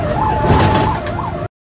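Ambulance siren wailing in a rising and falling two-tone sweep, loud and close, running steadily before cutting off abruptly near the end.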